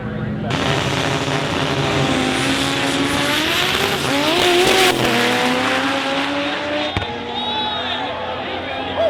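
Turbocharged Honda K-series race cars roar past at a race event, loud engine wails rising and shifting with tire squeal, crowd noise and voices mixed underneath.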